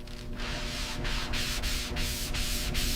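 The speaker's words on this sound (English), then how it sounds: "Hours of sanding." Body filler being sanded by hand on a Buick Skylark, close and loud rasping strokes repeating about every half second in a steady back-and-forth rhythm, with a low steady hum underneath.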